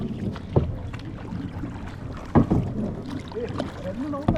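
A kayak is paddled across water by a group of friends, its soft rhythmic splashes and knocks sounding close under wind buffeting the microphone, with occasional voices nearby.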